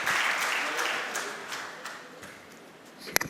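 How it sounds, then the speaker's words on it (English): A conference audience gives a round of applause that is loud at first and slowly thins out, ending with a few sharp claps close by. "So let's carry this new beginning with a huge round of applause"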